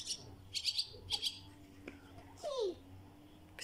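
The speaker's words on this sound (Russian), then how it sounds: "Смотри, Ника, птички летают." Small birds near a shed give short, high chirps in quick clusters, quiet and close, while a child and an adult murmur softly.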